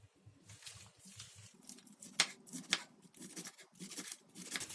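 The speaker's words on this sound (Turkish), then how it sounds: "Şimdi bunları minik minik doğrayarak çorbamın yapımına başlıyorum" Quick knife chops through celery leaves against a cutting board, a few sharp taps standing out, with soft rustling of the leafy greens between strokes.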